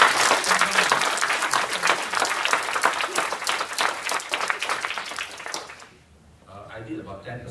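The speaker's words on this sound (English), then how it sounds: "How a round of applause for Roy." A forum audience applauds its coordinator with dense, loud, sustained clapping that fades out toward the end, leaving quieter room sound with faint voices.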